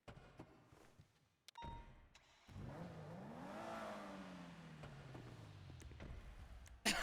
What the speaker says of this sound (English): What does this car sound like?